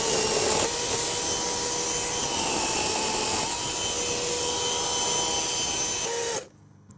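A chainsaw rips through a log in one steady, loud cut lasting about six seconds, its engine holding a sustained high whine before cutting out abruptly near the end.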